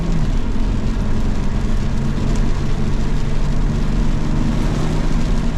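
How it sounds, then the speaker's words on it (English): Heavy rain pours down at a race track, a dense steady hiss and roar heard from inside a BMW M2 Competition, with a low engine drone running continuously underneath. "Dude, it's pouring."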